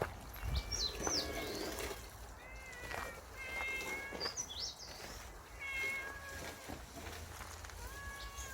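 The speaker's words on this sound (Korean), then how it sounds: "고양이 왔습니다, 고양이." A cat meows repeatedly in the grounds of Hoeryongsa, a Buddhist temple in Uijeongbu, a series of drawn-out, fairly close cries over a murmur of outdoor background noise.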